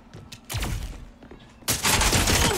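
Bursts of game gunfire from the shooter Spectre Divide, a quick volley of sharp shots early on, then a dense, loud burst of rapid fire near the end, with no talk over it.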